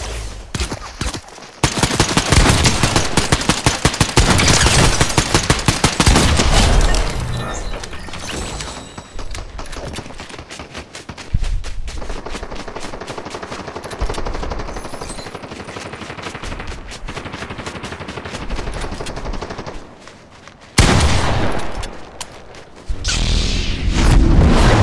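Dense, continuous gunfire and explosions from the Fortnite video game, rapid automatic bursts and loud booms filling the scene with only short pauses.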